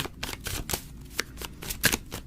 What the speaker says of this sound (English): Hopefully the shuffling isn't too loud.